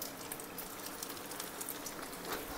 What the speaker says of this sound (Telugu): ఇది మనం ఆయిల్లో డ్రాప్ చేసుకుందాం ఇట్లా